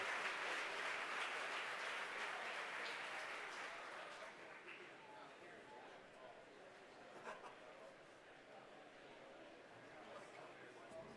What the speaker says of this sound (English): The crowd here at headquarters cheering.